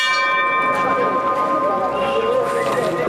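Temple bells rung for the goddess Kali at a village shrine clang with bright ringing tones that overlap and sustain, loud and close, amid a busy outdoor setting.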